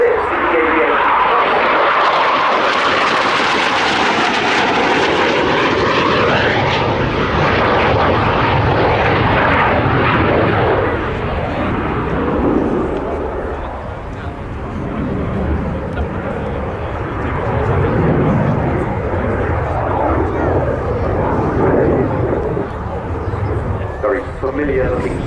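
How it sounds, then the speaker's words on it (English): A Spanish Navy EAV-8B Harrier II jet flies a display at an airshow, a loud roaring engine that sweeps overhead and then fades into a rumbling drone as it moves away, with commentary voice talking over it throughout. "The EAV8B, part of the Harrier 2 family, like the AV8B for the Americans"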